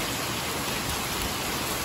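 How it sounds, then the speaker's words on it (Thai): Steady rain pours in Sathorn, a dense even hiss of falling drops without pause, close and constant with no voices. "ฝนตกจ้ะพี่น้องฝนตกอยู่สาทรค่ะ"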